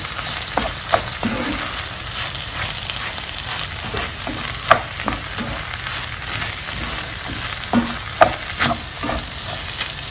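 Coconut curry rice stirred in a pan over a steady sizzle, with irregular scraping and clinking strokes of the spoon against the pan, a few sharper knocks standing out, close and fairly loud with no talking.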